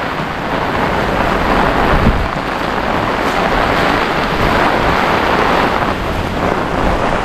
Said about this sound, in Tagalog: lumakas lang ulan